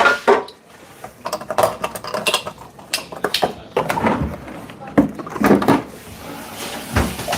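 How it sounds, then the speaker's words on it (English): Turmeric and peppercorn mixture with lemon whisked in a bowl in a home kitchen, heard as clattering clinks and scrapes of a whisk against the bowl in irregular close bursts. "gotta make sure everything is nice and whisked together"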